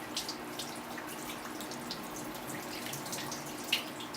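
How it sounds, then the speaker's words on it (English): Tap water runs steadily as a whetstone and a paper blade are rinsed under it, a soft continuous wash with faint splashes and one brief clink near the end. "Rinsing my stone off, rinse the blade off,"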